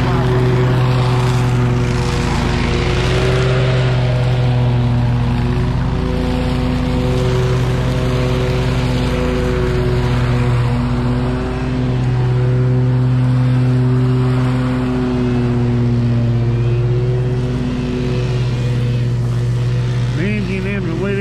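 Stihl FS 131 string trimmer engine runs steadily through a weed-eating job outdoors, a constant close, loud droning hum with stacked harmonic tones that waver slightly in pitch over about twenty seconds, with no pauses.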